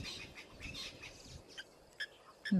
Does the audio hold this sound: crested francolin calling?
yes